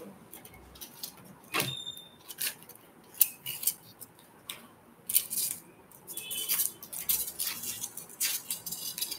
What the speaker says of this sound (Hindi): मैं ट्राई करती हूँ इस फॉइल को ना काट दूँ